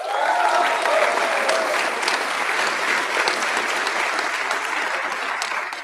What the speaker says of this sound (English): You're gonna get to clap for Jason in 20 seconds.